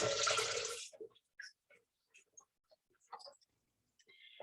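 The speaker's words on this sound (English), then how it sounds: "what we're going to do now is actually add about 1 litre of water" About a litre of water pours into a cooking bowl in one bright splashing burst lasting under a second, followed by scattered faint drips and small clinks in quiet surroundings.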